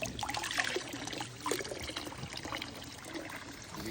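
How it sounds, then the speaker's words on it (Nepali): Water trickles and gurgles in a small stream, a faint, steady babble with no voices. "झोलाको पानी"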